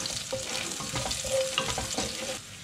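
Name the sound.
garlic frying in a pan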